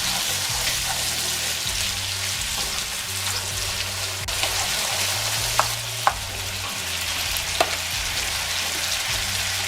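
Twelve ounces of medium shrimp sizzle with garlic in a pan for garlic shrimp penne, a steady, loud frying hiss broken by a few sharp crackles and pops.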